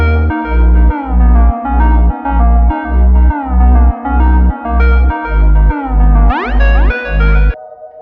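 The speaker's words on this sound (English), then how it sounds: "So altogether, the melody sounds like this." Funk melody line played over a sustained synth pad, loud and upfront, with rhythmic gated low-end pulses and gliding pitch bends, a rising sweep near the end before cutting off.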